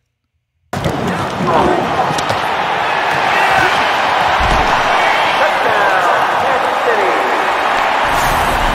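A huge crowd roars and cheers in a film scene, a loud, dense, continuous wall of sound that starts abruptly and holds steady to the end.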